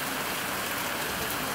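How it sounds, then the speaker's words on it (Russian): Long-awaited rain falls over Antalya, Turkey, in a steady, dense hiss of drops that holds evenly at close range for the whole short stretch, with no pauses or voices. "в Анталии пошел долгожданный дождь"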